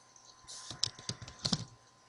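Keys on a computer keyboard are tapped in a quick, uneven run of soft clicks, close by in a quiet room.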